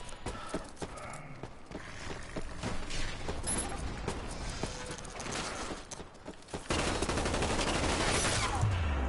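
A gun fires in an Umbrella Corps match, with rapid, dense bursts of gunfire running throughout and growing louder and more continuous near the end, over game noise.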